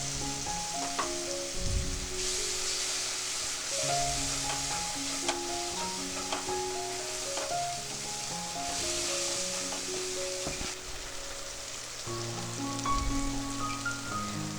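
Masala frying and sizzling in a pan for a vegetarian chhanar dalna as water from rinsing the mixer jar is poured in, a steady close hiss with the scrape and clatter of stirring, no voices.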